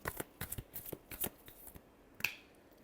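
Tarot cards being shuffled by hand, a quick run of crisp riffling flutters and soft slaps with one sharper snap near the end, close and fairly quiet with no talking.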